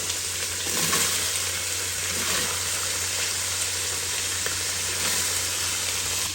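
Three onions hit a hot pan in a home kitchen making achaari aloo, giving a steady, even sizzle that hisses continuously throughout without any voices.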